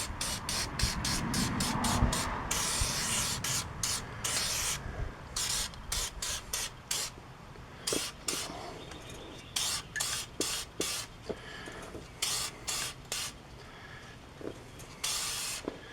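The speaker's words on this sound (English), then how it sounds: "we'll just hose it down here with some fluid film to keep the new rotor from rusting on there" Fluid Film rust inhibitor is sprayed onto a new brake rotor on a 2014 Chevy Silverado. Short, sharp hissing bursts repeat close up, with a longer spray at the start and quick pulses after.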